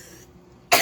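A single loud cough bursts out at the very end after a near-silent pause.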